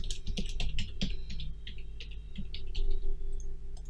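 Typing on a computer keyboard while building an app in Unity3D, a quick run of close, crisp key clicks in short bursts over a steady low electrical hum.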